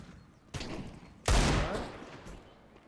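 Gunfire in the video game Free Fire, heard as two close, sharp shots about a second apart, the second louder and booming before it fades into a short reverberant tail.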